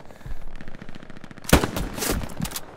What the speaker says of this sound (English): grease gun suppression